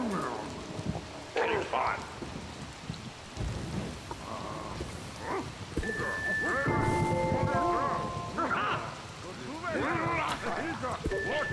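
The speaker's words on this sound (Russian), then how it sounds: "О, дождь пошел." Rain beginning to fall in the video game Spore, a soft steady patter with low rumbles, mixed with in-game creature calls and tonal effects, while a person talks over it at moments.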